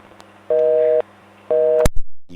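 Telephone busy tone after a caller hangs up: two evenly spaced half-second beeps separated by silence, followed by a sharp click and brief handset noise at the end.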